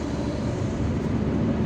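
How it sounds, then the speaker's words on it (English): A steady, loud low rumble and road roar while passing a construction-site dump truck on a road near Algiers, continuous throughout with no voices. "We need to overtake this dump truck"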